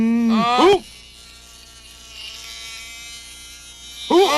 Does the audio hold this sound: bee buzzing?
yes